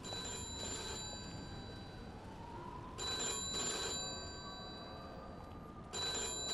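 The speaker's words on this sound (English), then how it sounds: "There's the phone." A telephone rings in the video game Mafia 2, three bright repeated ring bursts spaced about three seconds apart, clear and fairly close over a quiet background.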